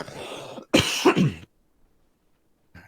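A short burst of coughing or throat clearing, two or three rough harsh pulses close up, then near silence with a faint click at the end.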